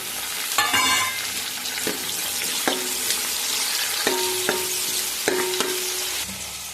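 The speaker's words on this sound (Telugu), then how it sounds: "ఇలా వేగిన తర్వాత టమాటా, పుదీనా వేసుకుందాము." Tomato and mint sizzle steadily as they fry in a pan, with several sharp clinks and scrapes of a spoon stirring against the metal throughout.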